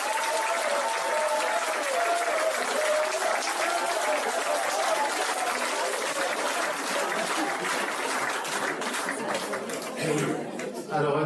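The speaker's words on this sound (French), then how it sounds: "je vais les applaudir encore très très fort" An audience at a cabaret show applauds loudly and continuously, a thick wash of clapping mixed with crowd chatter and some laughter that thins slightly toward the end.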